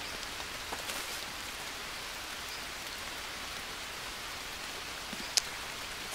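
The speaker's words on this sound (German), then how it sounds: "Natürlich regnet es abermals und immer noch" Steady rain hissing down on surfaces in Green Hell, even and constant, with no voices.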